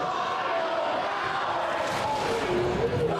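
Crowd noise from Cardinals fans at a high school varsity boys basketball game between Soda Springs and Wendell, a steady wash of cheering and shouting with some voices standing out, held at an even level throughout.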